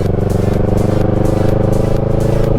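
Yamaha MT-03 naked motorcycle engine pulling hard under acceleration, a loud, steady, close throaty drone with dense harmonic rumble and no speech over it.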